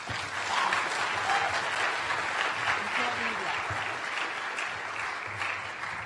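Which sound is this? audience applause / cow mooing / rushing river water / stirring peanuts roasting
audience applause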